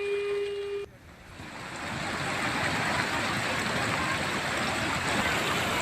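Floodwater rushes over roads after heavy rain in Garhwal, Uttarakhand, a steady broad hiss of flowing water, loud and continuous after a brief tone at the start.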